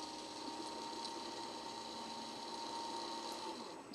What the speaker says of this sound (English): Okay, so we set the motor at a certain speed.